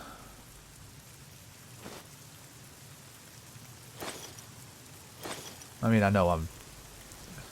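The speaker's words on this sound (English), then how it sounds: "Ah, come on, rain. Leaky roofs." Rain patters steadily on surfaces and drips through a leaky roof in Fallout: New Vegas, faint and continuous with a few louder splashy bursts, while someone briefly talks near the end.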